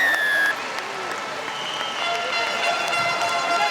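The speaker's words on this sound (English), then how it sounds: "You can hear the crowd." A stadium crowd at a women's rugby sevens tournament in Clermont-Ferrand applauds and cheers after a try, a steady wash of clapping and roar under a commentator's voice.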